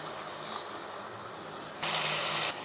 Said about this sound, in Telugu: ఇప్పుడు కొంచెం వాటర్ యాడ్ చేసుకోండి.